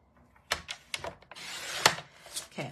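Scraps of cardstock are trimmed for card making, giving several short scraping, rasping cuts and one longer drawn-out slice, close and fairly quiet.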